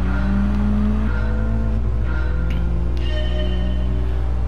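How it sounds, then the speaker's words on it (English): A Volkswagen Polo engine in a Gran Turismo 7 night race, a loud steady drone with gear changes and pitch shifts as it accelerates, plus faint tire squeal and sharp clicks. "The Volkswagen Polo."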